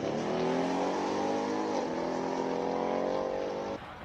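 Ford Mustang Mark 1 race car accelerating up a hill at a Cape Town speed classic hillclimb: a loud, sustained engine roar rising in pitch, briefly easing around a gear change, then climbing again before dropping off near the end.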